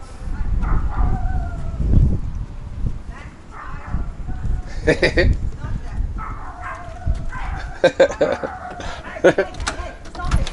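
Several small dogs bark in short, sharp bursts, scattered and overlapping, with people talking nearby over an outdoor background.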